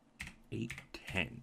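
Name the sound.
typing a file name on a computer keyboard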